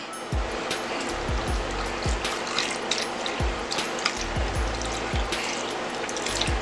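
Beef broth, about two cups, pours into a pot of country-style ribs as a steady splashing liquid stream with soft repeated low thumps, fairly close and without talk.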